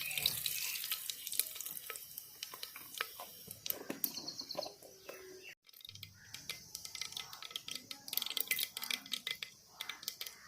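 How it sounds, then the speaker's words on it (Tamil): Mustard seeds tossed into hot oil for a mutton curry splutter and pop in quick, irregular bursts of sharp crackles. The popping is fairly faint and close, with brief pauses and some background kitchen sounds. "கடுகு போட்ட உடனே கடுகு பொரிஞ்சிச்சு"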